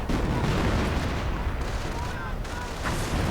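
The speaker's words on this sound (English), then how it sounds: "Heavy artillery going in there." Heavy artillery barrage in a World War II strategy video game, a dense continuous rumble of booms and blasts with a voice talking over it throughout.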